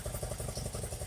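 A BMW R80RT airhead motorcycle with Bing carburetors idles slightly high, its flat-twin engine thumping in a close, steady, rapid pulse with a mechanical clatter over it.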